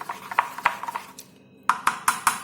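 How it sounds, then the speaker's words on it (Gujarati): A spoon clinks and taps against a bowl while mixing dhokla batter made from samo with yogurt and water, a series of sharp close knocks in irregular bursts with a brief pause between. "હવે આપણે આ બનાવેલા બેટરને આ રીતે ચમચીથી મિક્સ કરી લઈશું।"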